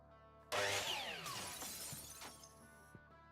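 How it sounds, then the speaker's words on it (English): Glass shatters in the video game Quasimorph, a single loud crash that splinters into tinkling shards and trails off over a couple of seconds, with no talking. "What was that breaking glass sound?"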